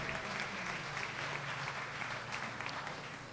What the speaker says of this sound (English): Give Jake a big round of applause, please.